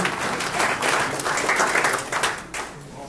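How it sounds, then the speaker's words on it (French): An audience at a club gathering applauds Grégory of the Sèvres club, a close, lively run of many hands clapping with a distinct rhythmic pulse, easing off after a couple of seconds. "Et on applaudit plus longtemps, puisqu'il a forcément beaucoup plus de temps pour arriver jusqu'ici"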